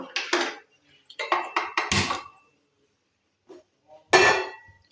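Clanking of a metal pot being set down and handled, a few sharp knocks and scrapes in quick succession, then a pause and one more clatter.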